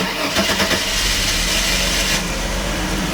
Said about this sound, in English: This is a cold start, and you just turn the key